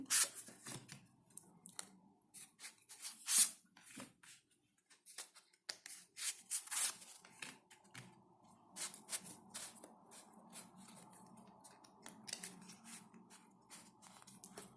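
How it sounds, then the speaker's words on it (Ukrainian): Tarot cards shuffled and slapped down one after another, crisp close papery snaps and slides with short pauses between them. "викладати по три карти."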